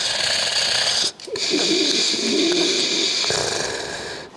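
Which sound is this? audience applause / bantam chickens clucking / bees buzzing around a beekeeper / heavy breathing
heavy breathing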